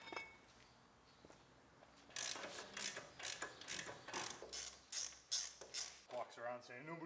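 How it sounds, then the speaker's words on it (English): Hand tools working on the brake calipers of a GMC Yukon, a rapid run of loud, evenly spaced ratchet clicks that begins partway through, followed by metallic clinks, with quiet rustling and brief background voices. "Pull the brake calipers off."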